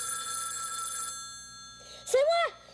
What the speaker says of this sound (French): Je suis capable de répondre à notre nouveau téléphone.